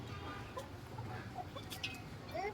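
Desi farm chickens cluck softly amid a faint hum, scattered short calls at a moderate distance with a little background talk.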